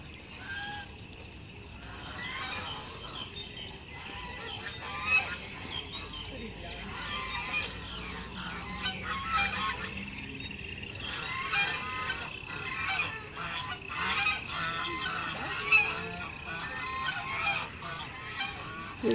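Many ducks in a park quack and honk in an irregular, overlapping chatter at moderate distance, with people talking throughout.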